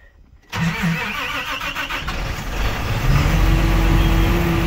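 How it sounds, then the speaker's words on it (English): A tractor's diesel engine cranks and catches after a moment of quiet, then settles into a loud, rumbling idle close by. "I'm gonna start it up. This tractor"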